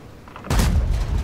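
A tank cannon shot in World of Tanks bursts out abruptly as a loud, deep boom with a rumbling tail, following a short stretch of quiet game ambience.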